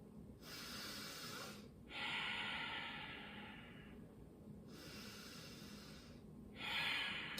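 Slow, deep breaths during a seated yoga stretch with a strap, each long hissing inhale or exhale lasting a couple of seconds, close and fairly soft, with no talking.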